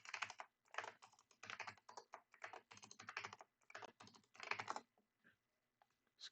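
Rapid keystrokes on a computer keyboard as a password is entered, coming in quick irregular bursts with short pauses between them, close and fairly quiet, with no talking.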